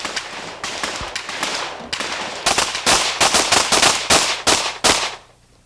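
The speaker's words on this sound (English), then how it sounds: "where he has 5 seconds to fire 6 shots." Rapid pistol shots ring out at a shooting competition's barricade event, fired from the 10-yard line with six shots in five seconds: a sharp string of loud, closely spaced cracks, with a few softer pops before the main burst.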